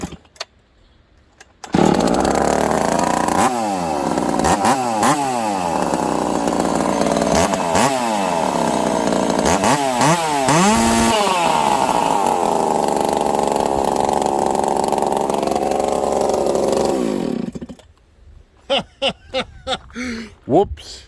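A Husqvarna 372XP chainsaw fitted with a new exhaust pipe roars to life and holds a loud, snarling high-rev whine for about fifteen seconds, with pitch dips as it bites into wood, then cuts off; a voice is heard near the end.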